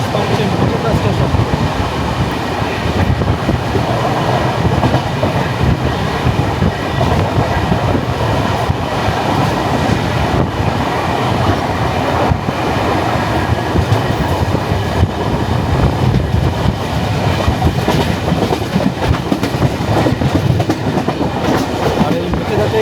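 The 22503 Kanyakumari–Dibrugarh Vivek Express rumbles along at speed, a loud sustained roar of wheels on rails with steady clickety-clack rhythm and rattling carriages throughout.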